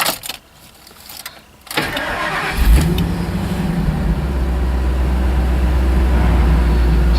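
An old, rusty vehicle not yet road legal cranks briefly, catches and settles into a steady, loud idle that holds close to the microphone, with no talking over it.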